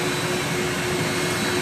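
A vacuum cleaner runs steadily while cleaning a dryer vent exhaust line, a loud continuous roaring whoosh with a constant motor whine and no other sounds.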